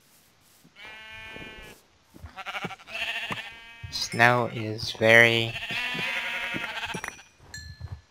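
Sheep in the Minecraft video game bleat several times, loud and near, with two strong bleats in the middle, while a person talks over the game sounds.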